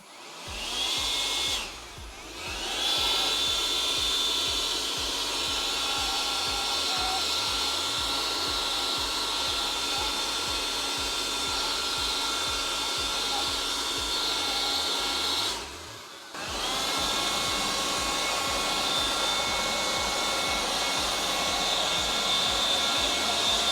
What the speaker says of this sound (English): And so what better time to go ahead and try the blower attachment.